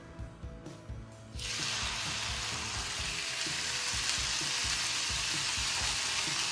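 Sabudana thalipeeth is laid on a tawa with a little oil over a low-to-medium flame. A few quiet clicks give way to a sudden, steady sizzle that continues without any talk.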